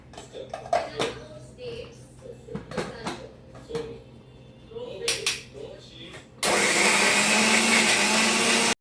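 A mixer grinder grinding cumin masala in a home kitchen roars on suddenly and loud, running steadily for the last seconds after a stretch of quieter kitchen clatter and a voice talking.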